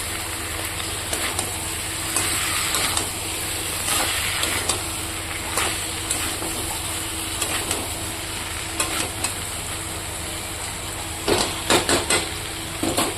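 Fried potatoes and chicken sauté with spices in a pan, a dense continuous sizzle close up, broken by repeated scraping and knocking of a utensil against the pan, louder toward the end.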